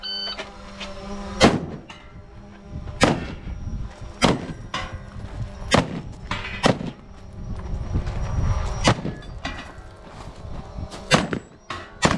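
Repeated gunshots from a .30 Carbine AMT Automag pistol fired on an outdoor shooting course, about a dozen sharp loud reports spaced irregularly a second or so apart, each with a short echo tail.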